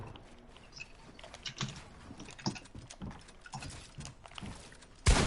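Clicky keystrokes on a mechanical computer keyboard during a Fortnite match, irregular bursts of close taps and clatter with a louder thump at the very end.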